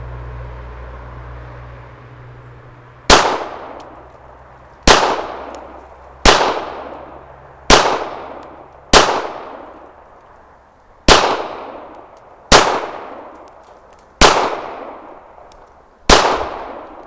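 Nine sharp shots from a Canik TP9SF Elite pistol, fired one at a time at uneven intervals over about thirteen seconds, each a loud crack with a ringing decay; no talking.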